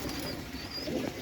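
A pair of home-kept fantail pigeons coo softly and continuously close by, with a faint high whistle above the low, murmuring calls.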